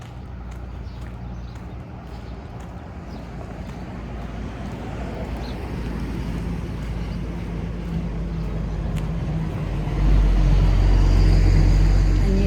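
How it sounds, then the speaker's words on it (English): Cars driving past on a road near the airport in Monaco, New Zealand, a steady rising traffic rumble with passing vehicles that grows louder toward the end, a heavy low drone swelling in at the close. "So the volume of cars going by is"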